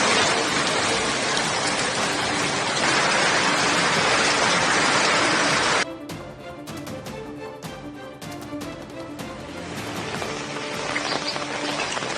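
Heavy monsoon rain pours steadily in Assam, a dense, loud wash of falling water that cuts abruptly to lighter patter with scattered drips and splashes, then swells again.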